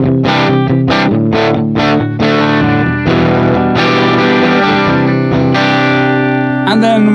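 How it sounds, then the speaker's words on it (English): Loud, crunchy distorted electric guitar through an amp modeler chugging out a verse rhythm part, with choppy chord hits and some ringing sustain, no talking over it. "So this would be my verse rhythm guitar sound."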